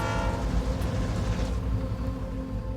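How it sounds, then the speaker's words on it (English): A train draws near on a rail line by a highway where a wrecked tractor blocks the crossing, its horn holding steady over a loud, continuous rumble of the wheels and cars. "Oh, we got a train getting close here."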